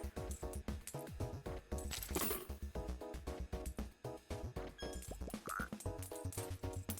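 A frog croaks in the coin pusher video game Raccoin, giving a quick rhythmic run of croaks over busy game music and clinking coins.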